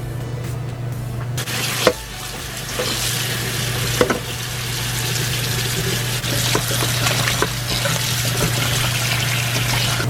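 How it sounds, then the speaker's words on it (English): Whole chicken boiling in a pot for a traditional Lai rawl dish, giving a steady bubbling, sizzling hiss at moderate level with occasional clinks and stirring knocks, no talk. "The chicken is still boiling"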